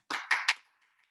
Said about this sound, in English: Class, let's give her a round of applause